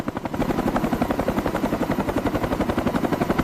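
A helicopter hovers close overhead while lifting a 1979 blue Lincoln Continental Mark V on a cable, its rotor blades beating in a loud, fast, even chop that pulses steadily throughout.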